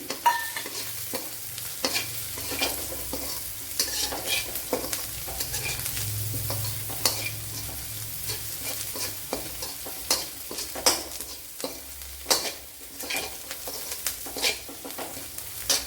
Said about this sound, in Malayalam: ഇതിലേക്ക് ഒരു ക്യാപ്സിക്കത്തിൻ്റെ പകുതി എടുത്തിട്ടുണ്ട് അത് ഇട്ട് കൊടുക്കുക